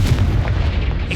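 A Confringo blasting spell goes off in Hogwarts Legacy, a loud, dense booming blast with deep low rumble that fills the whole short moment without a clear gap.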